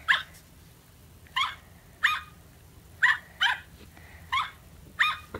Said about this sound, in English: The dog can bark.